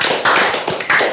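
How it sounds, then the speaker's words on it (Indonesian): Brief burst of an audience clapping hands at a provincial council talk event in East Java, loud and close, a few uneven rhythmic waves over about a second with no talk. "kita tepuk tangan dulu Bapak Ibu."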